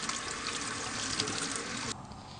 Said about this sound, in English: Now the next step is to rinse it thoroughly with water.